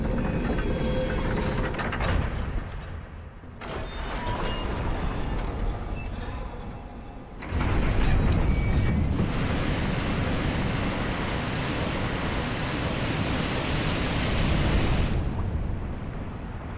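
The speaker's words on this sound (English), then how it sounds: "Oh shit, it drained all the water." In the Dark Souls game, a lever drains the water of New Londo with a sustained, loud rushing roar like pouring surf that swells sharply midway and then holds steady, with no talking.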